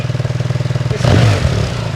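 A BMW R1300GSA boxer-twin motorcycle with a Jekill & Hyde exhaust idles with a loud, lumpy rhythmic pulse, then blips into a short rev that swells and settles back, close up.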